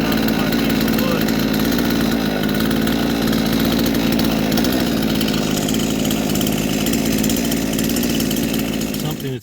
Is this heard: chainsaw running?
yes